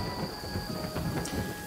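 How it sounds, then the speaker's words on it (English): Steady rain pours in the video game Yonder, with a soft rumble of thunder rolling underneath the constant hiss of falling drops and no voices. "And the rain pours down."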